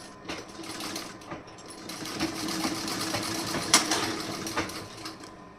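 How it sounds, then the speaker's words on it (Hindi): A sewing machine stitches fabric in steady, close-up mechanical clatter that runs continuously with slight swells in speed, with no talking over it. "यहाँ पे मैं थोड़ा सा और स्टिचिंग कर दे रही हूँ।"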